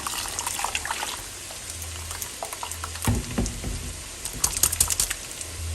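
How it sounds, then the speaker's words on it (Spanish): Tap water splashes into a blender jar to rinse out leftover sauce in a home kitchen, a steady close hiss of pouring with a few louder sloshes and clinks midway. "Le agrego un poquito de agua nada más para enjuagar."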